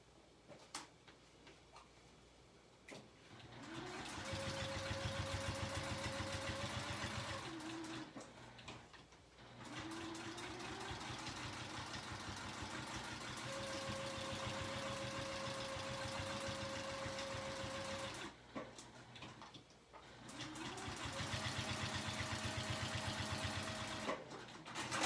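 A sewing machine top stitches cork and fused fabric in three long, steady runs of rapid mechanical chatter, separated by short pauses and a few clicks as the work is turned.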